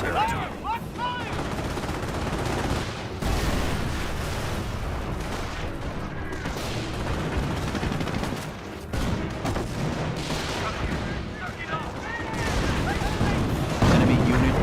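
Dense gunfire rattles through a D-Day battle in a video game, sustained machine-gun bursts and rifle shots with heavy booms, loud and continuous, with voices shouting beneath the shooting.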